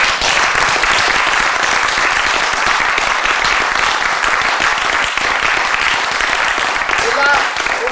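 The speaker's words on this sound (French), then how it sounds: "Je crois que ça mérite vraiment des applaudissements" Loud, sustained audience applause fills a theatre hall for about eight seconds, a dense, steady patter of many hands with some voices mixed in.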